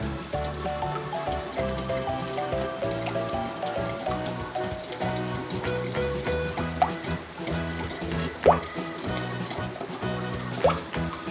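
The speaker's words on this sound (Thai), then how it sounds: "จากนั้นก็ใส่น้ำปลาร้าลงไปนะคะ คนให้เข้ากันเลยค่ะ" Thai fermented fish sauce (pla ra) is poured into a dressing with thick tamarind juice and stirred, with close liquid drips, trickles and sloshing over steady background music.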